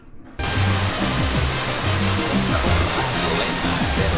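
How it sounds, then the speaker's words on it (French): A waterfall in Bali bursts in after a brief quiet moment, then roars as a loud, steady, close rush of falling water that continues without a break. "on a vu qu'il y avait une cascade, du coup bah on y est allé, c'est magnifique."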